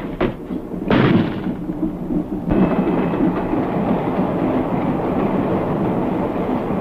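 A train runs on rails with a heavy, steady rumble and occasional sharp clanks, loud and continuous, with no voices over it.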